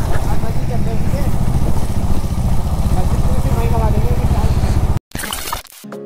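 A 390 motorcycle rides a mountain road near Nainital, its engine a steady, close, continuous drone throughout, cut by a brief break near the end.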